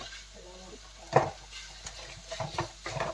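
Ground meat dropped into a pan for spaghetti sauce and stirred, a sharp clatter followed by soft scraping and light sizzling under quiet room noise.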